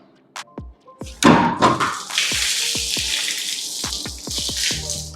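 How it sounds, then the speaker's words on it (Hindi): A Primax Nexa 6 kW IP66 solar inverter is lowered into deep water for a submersion test. A few sharp knocks are followed by a loud splash and then sustained close gurgling and sloshing. "ये है प्राइमैक्स नेक्सा और ये पानी में जा रहा है"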